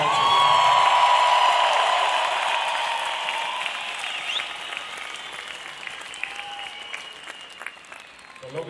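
Loud applause from a large audience at a concert at Movistar Arena, Bogotá, 2019, a dense wash of clapping that gradually thins and fades over several seconds.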